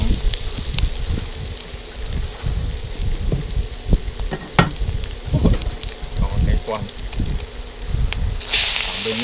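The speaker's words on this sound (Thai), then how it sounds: "ใส่น้ำมันหมูลงไปครับผม" Pork lard sizzling in a frying pan while stir-frying a Thai basil dish with pickled bamboo shoots, fresh chilies and beef: a loud, continuous crackling hiss with spattering pops and utensil scrapes, brightening near the end.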